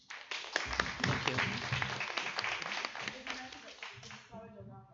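Audience applause at a crime talk event after a guest author is introduced, sustained clapping from a crowd for about four seconds that fades out as a voice begins speaking.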